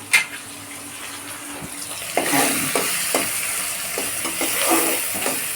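Mixed vegetables and dried fish (shutki) are stir-fried in a pan, giving a steady sizzle with repeated scraping stir strokes and occasional clinks, close and alone.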